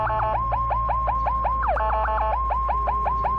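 Third vehicle siren from a car in the Roblox game Greenville, a steady electronic wail repeating in quick rising sweeps, with a brief faster yelp burst midway, loud and continuous with no talk.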